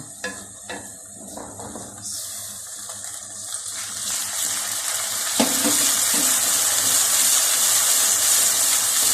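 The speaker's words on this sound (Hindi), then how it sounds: "हाफ कप पानी डालने लगे हैं।" Half a cup of water goes into a pan of frying ginger-garlic paste. Quiet stirring and scraping gives way to a loud, rising rush of hiss and steam that holds steady to the end, close and with no voices.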